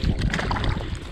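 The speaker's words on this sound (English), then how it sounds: "That wind comes out of nowhere" Wind gusts across a frozen reservoir during ice fishing, buffeting the microphone with a loud, rough rumble for a brief moment.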